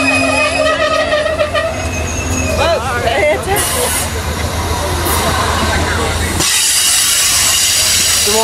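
An Amtrak Capitol Limited passenger train passes close by in Cumberland, Maryland, with a loud rolling rumble, squealing wheels and a burst of hiss. People are talking in the background.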